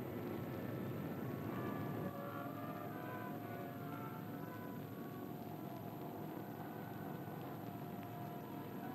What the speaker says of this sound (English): Navy converted B-17s are used for anti-submarine patrol.